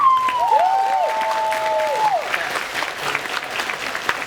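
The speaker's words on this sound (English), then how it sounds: "you can clap for Fred Rogers" A crowd bursts into warm applause with scattered cheers, loud at first and then thinning slightly, while a sustained whistle-like tone glides and holds briefly near the start.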